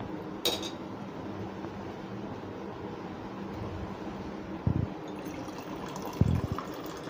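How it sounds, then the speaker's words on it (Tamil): Milk and water go into a pressure cooker pot of prawn biryani. A faint, steady liquid pour hisses up close, broken by a few light metallic clinks from the pot, with no voices. "தண்ணி பால் ஊற்றிருக்கேன்"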